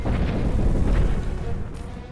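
Cannon fire in the video game Cannon Brawl: a deep, rumbling boom swells and rolls out over about two seconds, loud and low, then fades, with no talk over it.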